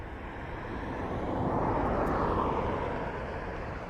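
A Ryanair passenger jet flies near an airport, its engine roar a broad, steady rumble that swells gently toward the middle and stays fairly loud throughout, with no talking.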